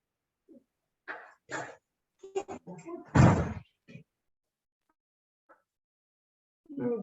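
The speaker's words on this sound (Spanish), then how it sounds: "un ratito voy a cerrar mi puerta para que no entre ruido" A room door at home swings shut with a single solid thud near the middle, surrounded by brief muffled vocal noises like coughs or throat clearing, then quiet.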